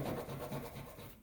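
Soft, steady rubbing on a Seydel Saxony harmonica mouthpiece being polished, rhythmic back-and-forth strokes at close range with a gentle scratchy texture.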